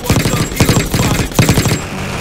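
Rapid automatic gunfire in Call of Duty Black Ops 6, loud bursts of close shots in quick rhythmic volleys with short pauses between them, no talking over it.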